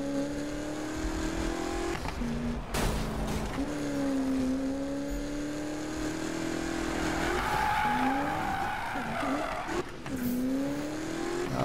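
Tires squeal as a car drifts through corners in a racing video game, with a steady engine drone and a rising, bending screech that repeats over about twelve seconds, loud and close with no talk.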